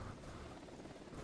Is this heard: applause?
no